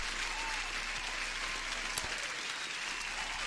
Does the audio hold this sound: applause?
yes